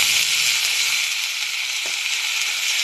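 Flat beans and potatoes sizzle in hot oil, a steady, loud, even hiss that fills the whole stretch with no pauses and no voices.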